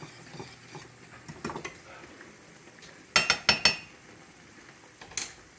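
Gravy being made in a pan beside cooking food, a soft sizzle with scattered clinks and a quick cluster of sharp utensil scrapes and taps against the pan, fairly quiet and close.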